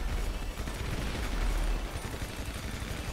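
Gunfire in the video game GTA V during a multiplayer deathmatch, a dense, loud and continuous barrage of shots with no talk.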